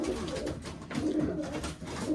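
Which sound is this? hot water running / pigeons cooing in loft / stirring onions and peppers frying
pigeons cooing in loft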